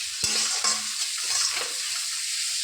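Chopped onion fries with salt in oil for a fish-head dal, a dense nearby sizzle opened by a couple of quick spatula knocks, with no talking.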